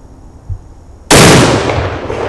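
A single deafening blast from a .700 Nitro Express big-game rifle, a sudden close-range crack that cuts in sharply and then rolls off into a long, heavy roar with no voices over it.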